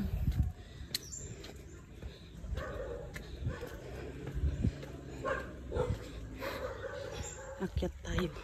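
A dog barks a few times amid outdoor chatter, with people talking and laughing nearby over steady background noise.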